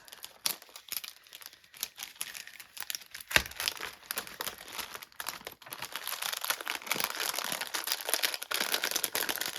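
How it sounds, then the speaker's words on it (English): Packaging or paper crinkling close by during mixed-media scrapbook layout work, a continuous crisp rustle that swells toward the end with one sharp snap, no talking. "I'm sorry for the crinkling"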